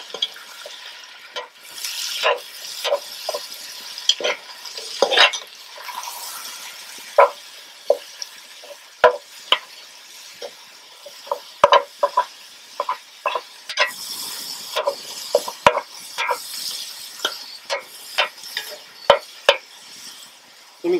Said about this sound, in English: what we want to do right now is just brown the meat